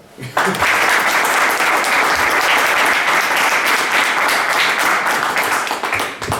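A lecture audience at a Spanish cultural venue breaks into loud, sustained applause after a brief quiet start, dense clapping holding steady for several seconds with no voices over it.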